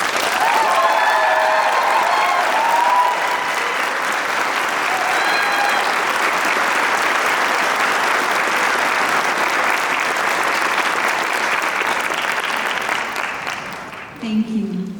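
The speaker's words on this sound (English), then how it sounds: "please take a moment to give the staff and the faculty the applause that they deserve" A large crowd gives loud, steady applause at a college commencement ceremony on the FRCC Boulder County Campus. The clapping holds for about fourteen seconds, then thins out and stops.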